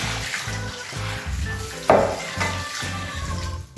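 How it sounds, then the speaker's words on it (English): Jerusalem artichokes scrubbed with a hard brush under running tap water in a double sink, a steady rush of water with rhythmic scraping strokes and one sharper knock partway through. "And I scrub them under running water."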